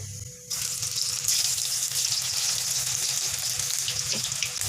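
Potato pakoras deep frying in hot oil in a home kitchen, a steady close crackling sizzle that surges after a brief soft start, with a faint clink near the end.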